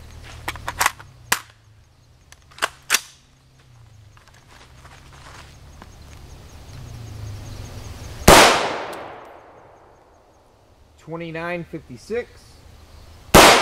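A Stag rifle with a 16-inch barrel fires 5.56x45mm Fort Scott 55-grain solid copper rounds. A loud, sharp report rings out near the middle with a long decaying tail, plus smaller clicks and knocks, and a voice speaks afterward.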